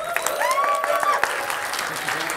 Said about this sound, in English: Give a gigantic round of applause for the one and only Mr. Derek M. Cook.